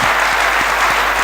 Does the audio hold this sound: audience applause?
yes